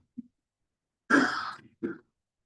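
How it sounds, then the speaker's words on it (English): One person coughs and clears their throat at a public health board meeting: a soft catch, then a harsh hacking burst and a shorter second cough, close to the microphone in a quiet room. "I've got a cough"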